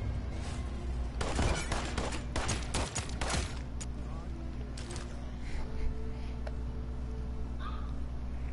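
Bursts of rapid gunfire in Paladins crackle loudly in the first few seconds, followed by a few scattered shots over a low steady hum, with a voice talking alongside.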